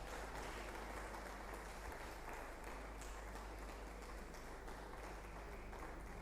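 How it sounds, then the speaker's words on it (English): Steady applause from an audience at a university women in chemistry event, greeting a professor, a continuous faint wash of clapping under heavy background hiss. "Please a round of applause for her."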